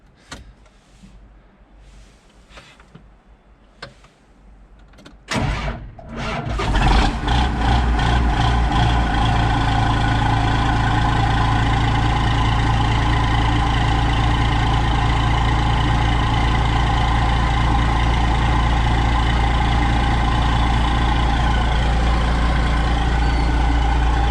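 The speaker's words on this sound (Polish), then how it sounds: "Spróbujemy odpalić maszynę." A John Deere 7810 tractor with a PowerShift transmission, under repair, gives a few faint clicks, then a brief starter crank as the engine catches and settles into a loud, steady, close idle that continues to the end.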